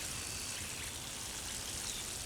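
A steady, close hiss of water spraying from a hose onto freshly planted garden plants, continuous and even throughout with no talk.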